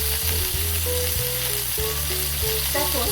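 Oil sizzles and crackles in a pan while adobong kangkong cooks, a close, continuous frying hiss with rhythmic scraping knocks of a utensil stirring, and no voices.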